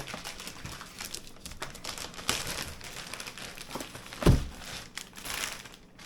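Plastic packaging of Andy's seasoning is cut open, giving close, soft crinkling and rustling with scattered small snips and one sharper crunch or tear near the end, quiet and without talk.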